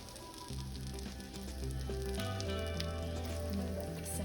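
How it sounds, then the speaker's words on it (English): Steady, close sizzling and crackling of a chicken cutlet frying in a hot pan, with tonal music playing underneath. "So I'm hearing it sizzle."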